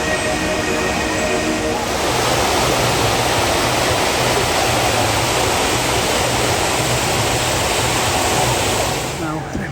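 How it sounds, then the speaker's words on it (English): Loud, steady roar of a waterfall beside the rapids ride at Heide Park, a theme park, filling the whole stretch as continuous broadband rushing water, with faint voices underneath. "We've got a nice waterfall there by the rapids."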